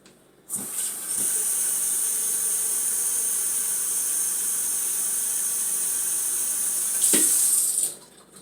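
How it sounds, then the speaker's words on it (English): Tap water runs into a coffee pot, starting with a splash and settling into a steady hiss of filling, then shuts off after several seconds. "I'm going to take my coffee pot and I'm going to fill it with water up to the number 4 line"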